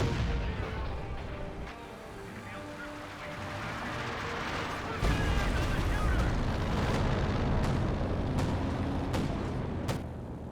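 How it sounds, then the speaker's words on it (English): Artillery fire from a B4 howitzer in the Company of Heroes 2 strategy game, a loud low boom around the midpoint followed by a rumbling battle bed with scattered sharp impacts, under game noise. "Sounds like a B4 just got fired away"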